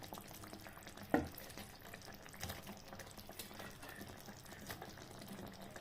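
Paneer cubes added to a simmering malai sauce, a brief splash as they drop in followed by soft, steady sizzling and bubbling at close range.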